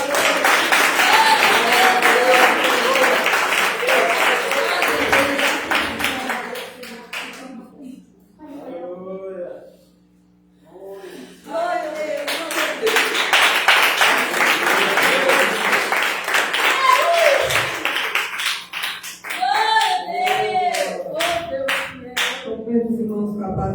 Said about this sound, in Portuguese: as palmas bem abertas